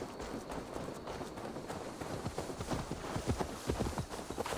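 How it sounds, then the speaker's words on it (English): A horse in Assassin's Creed Valhalla clip-clops along at a brisk, steady gait, its hoofbeats close and rhythmic over a soft background bed. "let me get my horse too"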